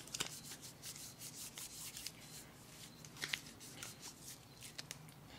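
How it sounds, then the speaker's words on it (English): A wax strip rubbed over skin affected by psoriasis makes a steady, close, soft scraping friction with small irregular peaks, quiet and continuous throughout. "Rub this first strip."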